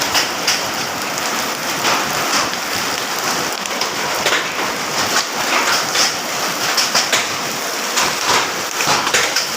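Heavy rain pours steadily and loudly onto surfaces, forming a dense, constant wash of noise with nobody speaking.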